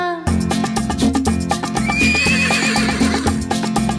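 A horse neighs loudly over a steady rhythmic music track at a preschool annual gathering performance, a long whinny rising and wavering in the middle.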